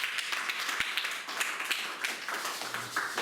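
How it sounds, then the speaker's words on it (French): A church congregation claps and applauds together in a steady wash of many hands, moderately close and not very loud, with no speech over it. "Acclamons pour le Seigneur."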